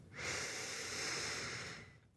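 A slow, deliberate breath drawn in through the nose during meditation, one smooth airy inhale swelling in after a brief pause, holding steady and then fading, close and quiet with no talking.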